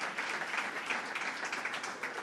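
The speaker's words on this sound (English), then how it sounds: "Let's give a round of applause to them." An audience applauds steadily at a New York governor's economic development announcement in Yonkers, a dense, even wash of clapping close by with no speech over it.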